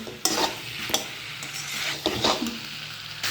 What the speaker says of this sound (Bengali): তাও কপি দিয়ে একটু ভালো করে কষিয়ে নেব